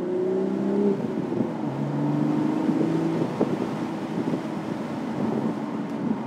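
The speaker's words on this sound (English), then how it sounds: "I'm hearing the burbles, the engine revs." A BMW Z4 M40i with a 6-speed manual, top down on mountain switchbacks, burbles and revs in a steady low engine drone with rising and falling tones early on, mixed with wind rush.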